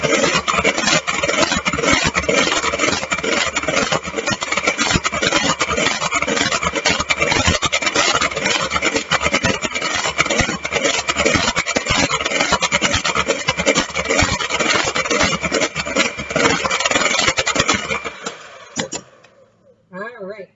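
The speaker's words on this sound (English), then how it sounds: "we're going to go back to some more stirring" Cream being whipped in a bowl for a brownie-waffle topping, a loud, steady, close whirring rasp that runs without a break for about eighteen seconds before cutting off.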